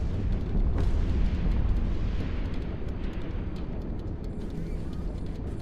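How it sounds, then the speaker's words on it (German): Primary weapons of a spaceship fire in EVE Online, a steady roaring barrage with a deep rumble throughout, slightly heavier at the start, with faint crackles on top. "Now it's time to lock your targets on the hive and fire your primary weapons."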